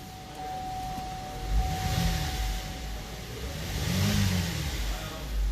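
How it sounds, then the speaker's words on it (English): A 3.6L V6 in a 2011 Chevy Traverse with a camshaft timing fault revs up twice in brief swells over a steady idle, heard close by in a workshop. "Just revving it up a little bit to see"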